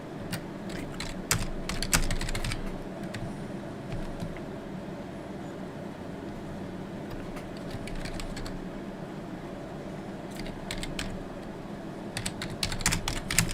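Steady typing on a computer keyboard at a home game session, with rapid, fairly close key clicks in bursts throughout, busiest at the start and the end, over a constant low background hum.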